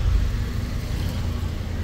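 A car rolls through a crowded street market in Quetzaltenango, Guatemala, a close, low engine rumble that holds steady throughout over a busy background of street noise.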